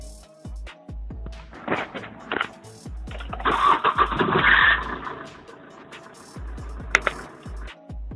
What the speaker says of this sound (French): le démarreur fait du bruit